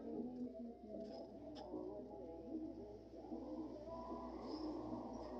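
Breeder pigeons coo softly nearby, low repeated throaty calls overlapping in a loose rhythm over a faint background hum, with a few small clicks and rustles.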